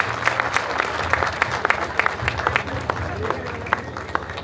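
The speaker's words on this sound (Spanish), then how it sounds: "Para él un gran aplauso también" Applause from a crowd at a rally awards ceremony, honoring Julio Alvarenga, president of a local drivers' association; steady clapping with sharp individual claps standing out, mixed with crowd noise and voices in the background.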